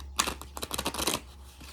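Oracle cards are shuffled by hand, giving a quick, close burst of papery riffling flicks lasting about a second.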